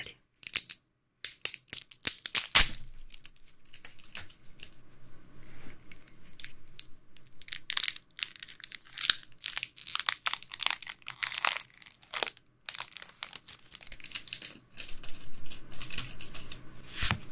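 Pokemon Prismatic Evolution energy card packaging is unwrapped up close in soft-spoken ASMR style, with irregular crinkles, snips and crackling bursts interrupted by brief pauses.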